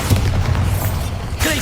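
Bombarda blasting spell going off in Hogwarts Legacy, a loud deep booming explosion with rumbling low end sustained through the clip, followed by a brief higher whooshing burst near the end.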